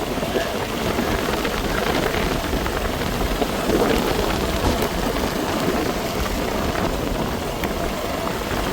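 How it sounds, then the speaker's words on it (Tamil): Heavy rain from a low-pressure system along the coast of Jaffna pours down as a dense, steady roar of constant wash with no breaks, close and fairly loud throughout. "மழை வந்து இப்போ பெருக்க தொடங்குது"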